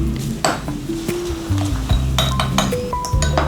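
A spoon clinks and rings against a bowl while custard powder is stirred into milk for shahi tukra, repeated bright metallic taps close by over a steady kitchen hum and low background sounds.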